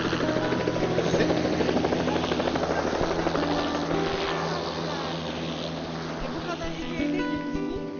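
A helicopter roars loud and steady overhead during an outdoor marriage proposal, its dense rotor and engine noise filling the air, with voices faintly underneath.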